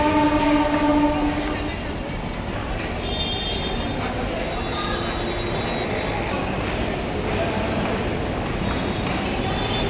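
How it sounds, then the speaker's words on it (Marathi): The Sawantwadi–Diva Express pulls into a crowded station with a loud, steady rolling rumble and a brief tonal horn-like note at the start, while people talk in the background. "हे मुंबईवरनं गाडी आली आहे"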